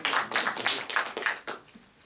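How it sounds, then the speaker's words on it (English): Scattered clapping from a recital audience welcoming the day's performers at a summer music recital, a handful of distinct hand claps at first that thin out and fade near the end. "let's begin with a big round of applause for all of today's performers"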